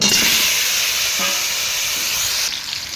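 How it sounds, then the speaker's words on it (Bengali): Potatoes frying in oil left over from frying fish: a loud, dense hissing sizzle close by that drops noticeably in intensity near the end. "এই তেলেই আলুগুলো ভেজে নেব"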